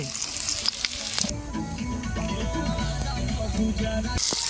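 Potatoes frying in hot oil in a home kitchen, a continuous close sizzle with some stirring and clattering, and a brief louder rush at the start and end.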